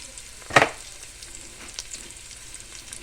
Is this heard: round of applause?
no